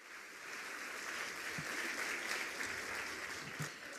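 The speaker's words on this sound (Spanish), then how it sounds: "Un aplauso y muchas gracias a todos ustedes" A steady, dense wash of audience applause for the panelists at a business and politics panel of a global conference, sustained and fairly soft, as if heard from a distance, with a faint voice underneath.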